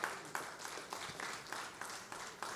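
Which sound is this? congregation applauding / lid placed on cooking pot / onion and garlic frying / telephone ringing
congregation applauding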